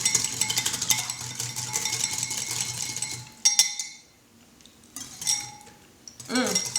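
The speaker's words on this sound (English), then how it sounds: "Just whisk it up, get it kind of emulsify." Lemon herb dressing whisked in a bowl, a steady rapid clinking and scraping of metal against the bowl for about three seconds, then a few scattered clinks after a pause.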